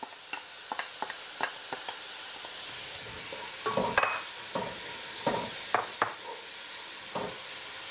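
Celery tipped into a salted pot, sizzling in the base for mondongo tripe soup: a steady close frying hiss broken by scattered sharp clicks and taps of stirring.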